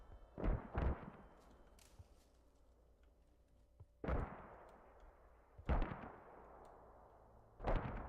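Mortar rounds explode in a multiplayer war game match, five sharp booming blasts spaced irregularly over the clip, each with a rumbling decay, loud against a low background hum with no talk.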